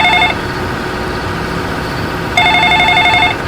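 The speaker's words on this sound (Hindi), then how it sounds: "मोबाइल अचानक जोर से बज उठा।" A phone rings loudly in repeated electronic trills, pausing and then starting again, over a steady engine hum inside a vehicle.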